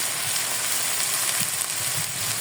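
Vegetable bhaji of sliced green chillies and onion sizzles steadily in a pan while being stirred, with soft scraping knocks from the spatula scattered through the continuous frying hiss, close and alone.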